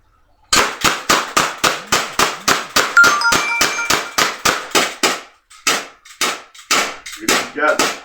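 Gas-powered airsoft pistols, a Beretta and a SIG, fire shots at a target. Each one gives a loud, sharp crack with a ringing clang, about twenty in quick steady succession, then a brief pause and a few more irregular shots.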